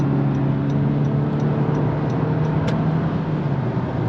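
Inside a Honda Sport Edition, the engine drones steadily as the car accelerates to pass on the road, a continuous close hum with road noise and no talk.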